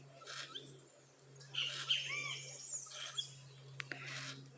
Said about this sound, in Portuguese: É o que? Um pica-pau, né